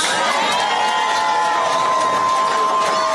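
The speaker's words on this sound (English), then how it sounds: "And the crowd went on to start chanting USA, USA." A political rally crowd cheers and shouts continuously at close range, a dense wall of massed voices with sustained whistles and whoops, though no distinct chant rhythm stands out.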